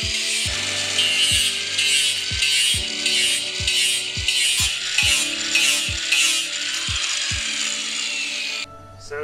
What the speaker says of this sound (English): you can also use an angled grinder.